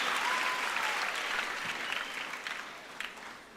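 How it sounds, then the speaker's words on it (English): Steady audience clapping at an education and leadership congress in Nairobi, a dense sustained wash of hands that gradually thins and fades toward the end, with no talking over it. "Let's clap for them to encourage them."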